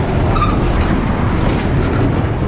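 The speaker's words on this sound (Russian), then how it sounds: "Смотрите, вот железная дорога. Видите? Да, по ней поезд ходит какой-то." A train runs along a railway at the edge of a town in Uzbekistan, heard outdoors as a steady, loud rumble with faint clickety-clack of wheels on rails, continuous throughout with no talking.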